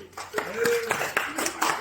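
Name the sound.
audience clapping for a student's question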